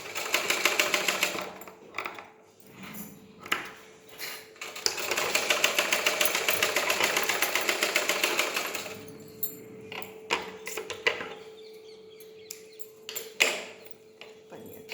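A sewing machine stitches a garment lining in fast, steady runs, with a brief stop early on and a long loud stretch before it breaks into short, stop-start bursts near the end. The machine is close and no one speaks.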